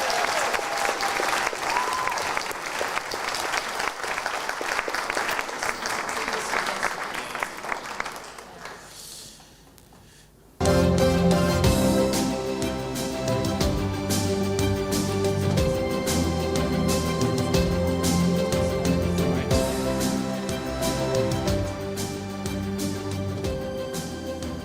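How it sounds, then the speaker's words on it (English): Warm, sustained applause from an audience at a learning disabilities and autism leaders' awards ceremony, greeting the first winner. The clapping fills about ten seconds, fades slightly, then cuts off as loud music starts. "Could we put our hands together and give a big well done clap to our first winner, Jessica Whitemore."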